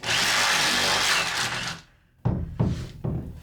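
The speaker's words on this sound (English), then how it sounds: "I think my drill bit's a little bit done for as well." A power drill with a worn bit bores into wood for a log cabin barn door, a loud grinding whine that cuts off, followed by three short bursts of drilling.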